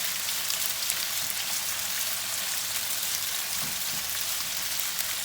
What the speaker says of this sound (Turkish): Tavukla beraber kızartacağız.